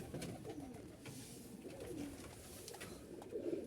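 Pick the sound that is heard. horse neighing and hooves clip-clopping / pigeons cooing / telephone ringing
pigeons cooing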